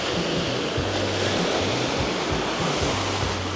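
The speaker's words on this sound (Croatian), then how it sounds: "Još su ovo kao veliki talasi." Waves break and wash onto a sandy beach with a shallow shoreline, a constant loud roar of surf with no speech over it.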